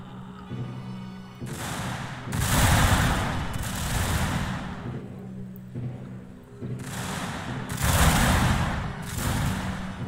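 Repeated bursts of matchlock musket fire by rank in a video game battle, loose volleys of loud crackling blasts overlapping one another with short gaps between rounds.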